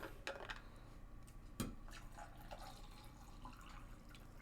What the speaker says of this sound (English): Just refilling my tea here